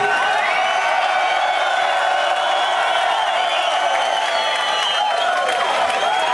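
A large concert crowd in Amsterdam cheers and whoops continuously, a loud, dense roar of many voices with scattered shouts throughout.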